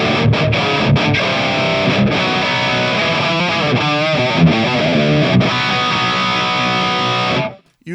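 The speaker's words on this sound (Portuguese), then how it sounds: "vou deixar a nota soando para vocês perceberem o silênciozinho que dá" A distorted metal guitar tone with a pitch effect rings out on a Hotone Ampero 2 Stomp multi-effects unit. One sustained note is left sounding loud and steady for several seconds before cutting off abruptly into a brief silence.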